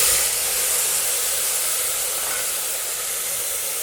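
Chopped tomatoes sautéing with onions in a pan make a steady close hiss of frying that holds at an even level with no breaks or talk.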